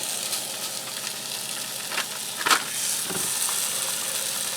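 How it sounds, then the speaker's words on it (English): Two pounds of breakfast sausage sizzle and fry steadily in a hot skillet, with a constant hiss and a few brief scrapes and stirring clatters. "I have 2 pounds of breakfast sausage here. I'm going to get this in here and get this browned up."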